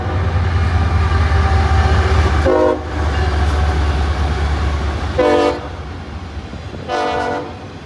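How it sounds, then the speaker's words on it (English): An auto rack freight train led by two GE locomotives passes a station platform with a steady heavy rumble and rolling clatter, while three horn blasts sound, the first two short and the last longer. "this is a video from the platform of another auto rack train with 2 GEs on the head"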